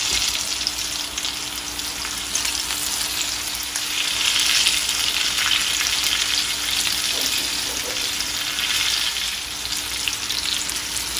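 Potato tacos frying in hot oil, a loud, dense, continuous sizzle and crackle held close for the whole stretch, no talking.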